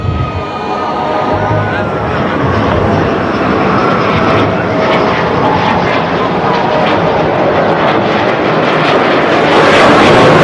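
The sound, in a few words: Sukhoi Su-30MKI Flanker fighter jet flying past at air show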